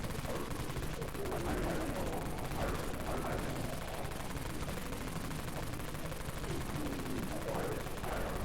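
Rapid automatic gunfire from the zombie shooter game Dead Frontier, a continuous stream of shots with heavy cannon-like blasts, dense and unbroken throughout, with a faint voice underneath.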